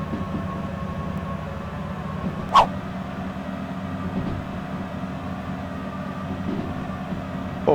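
A long train rolls downhill at steady speed with a continuous low rumble and droning hum, broken by a few faint clanks and squeaks, heard from on board.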